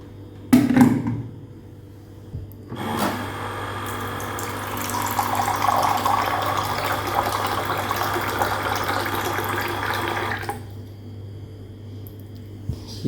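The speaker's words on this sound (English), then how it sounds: "this water dispenser is working again" A water dispenser's pump runs steadily with water flowing from an inserted gallon bottle, a continuous gushing hum lasting several seconds after a brief knock, then cutting off near the end.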